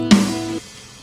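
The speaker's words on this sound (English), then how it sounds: "and then we're going to play some toms just to fill it in." In Ableton, one MIDI tom hit from a fill booms with a pitched, resonant body that rings for about half a second before cutting off, loud and close with no voices.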